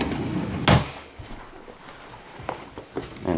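A drawer under a bed slides open or shut with a sharp wooden knock followed by lighter bumps and rattles, close by in a quiet bedroom.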